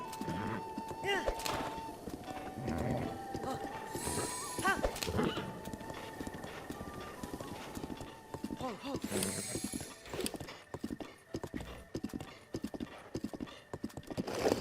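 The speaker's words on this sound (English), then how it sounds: "If you get separated from your horse, you can whistle and it will come running." A horse in Zelda: Breath of the Wild clip-clops in steady hoofbeats while galloping, with loud whinnying neighs breaking through; a voice talks over parts of it.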